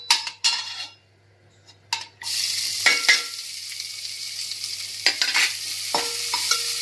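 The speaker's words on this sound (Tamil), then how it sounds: "நம்ம அந்த வெங்காயத்தை போட்டு வதக்கிடலாம்" Onions sautéing in a pan, with a steady sizzle and a few metal spoon scrapes and clinks against the pan, close and clear with no talking.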